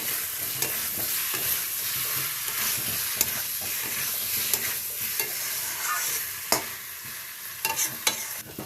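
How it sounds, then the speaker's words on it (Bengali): Chicken and potatoes frying in spiced oil for a red chicken curry, stirred with repeated scraping strokes over a constant close sizzle, with a few sharper knocks toward the end. "চিকেনটা কষানো হয়ে গেছে"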